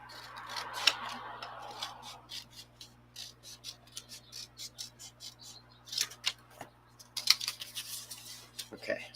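Scissors snipping out a small paper prototype piece, a steady series of quick crisp cuts, close and fairly quiet, with a few louder snips near the end.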